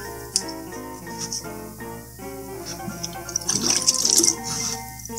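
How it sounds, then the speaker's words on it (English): Water poured onto dry soil in an aquaponics grow bed while watering in new plants, with splashing and trickling that grows busier toward the end, close and moderately loud, no talk. "Now I'm going to water those in."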